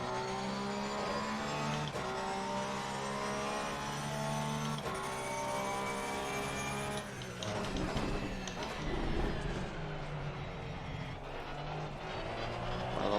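A Porsche 991ii GT3 R race car accelerates at the Nürburgring in Assetto Corsa Competizione, its engine holding a loud, steady, rising note before a gear change breaks it into a rougher, pulsing roar.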